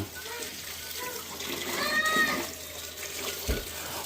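Tap water running while saag greens are washed, a steady splashing flow with some handling noise, heard under nearby voices talking.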